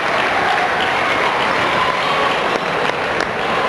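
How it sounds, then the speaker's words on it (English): A basketball crowd giving a standing ovation at a Hillsboro vs Brentwood game, a loud, dense roar of applause and cheering that holds steady throughout. "Crowd gives him one of the biggest standing ovations."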